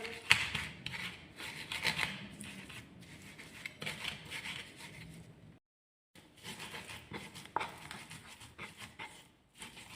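Repeated scraping and grinding strokes of a pestle against a stone mortar grinding spices, close and fairly soft, with a brief pause midway.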